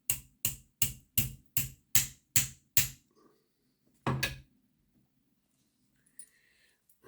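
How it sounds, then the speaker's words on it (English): Hammer taps knocking an axle out through the chassis and drive gear of a Hornby R1089 Class B model train locomotive: eight sharp, evenly spaced metallic taps close up, then one heavier knock after a pause. "Best thing to do is just a few taps of the hammer."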